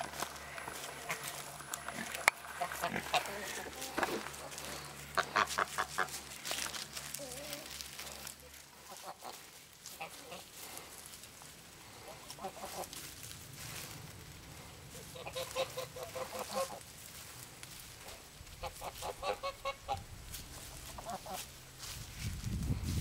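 Geese and chickens beside an electric fence, with scattered honks, quacks and clucks at moderate distance over low background noise and faint talk.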